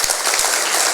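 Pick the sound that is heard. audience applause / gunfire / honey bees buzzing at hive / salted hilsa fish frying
audience applause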